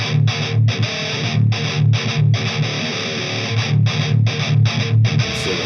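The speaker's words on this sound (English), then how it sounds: "Then we have the Califier based on the Mesa Dual Rectifier." Heavily distorted electric guitar played through a Califier amp simulation modeled on a Mesa Dual Rectifier, with a screamer pedal in front, chugging out a tight, rhythmic riff of short bursts separated by brief stops, loud and alone.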